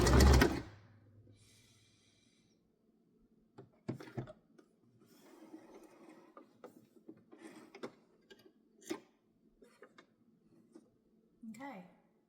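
A home sewing machine sews the inseam of thrifted dress pants, heard as a close burst followed by intermittent ticking stitch runs and soft handling noises.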